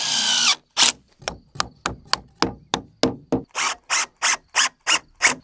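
A power drill drives a screw into a wooden decking handrail, a quick series of about a dozen short whirring bursts with brief gaps between them, close up, starting with one longer run.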